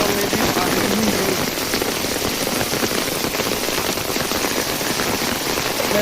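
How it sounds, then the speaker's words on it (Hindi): Heavy rain pours steadily onto a flooded village road, a dense, loud, unbroken hiss of drops hitting water and surfaces close by, with no voices. "इतना खतरनाक बारिश गिर रहा है यहाँ पे।"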